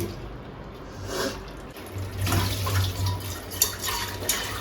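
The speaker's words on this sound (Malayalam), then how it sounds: "കുറച്ച് വെള്ളം സെറ്റ് ചെയ്യുന്നുണ്ട്" Water runs and splashes into a pot of fish curry with tamarind for a few seconds, a steady close pouring with faint clinks near the end.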